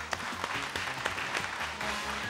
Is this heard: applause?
yes